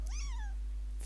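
Pet cat named Vinny lets out a single drawn-out meow, rising then falling in pitch, close and clear against a quiet room with a low steady hum beneath.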